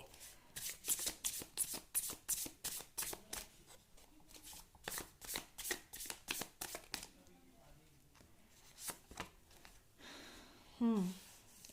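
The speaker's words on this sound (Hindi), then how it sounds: "आप लोगों के लिए कार्ड्स निकालती हूँ" Tarot cards are shuffled in quick, crisp riffling bursts and then drawn, close and clear at low volume, with a brief whistle-like squeak near the end.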